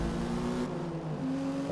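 Loud, crackly V8 car engine from a racing game, holding a steady drone with sustained harmonic tones and a brief shift in pitch partway through, rough and gritty with no voices.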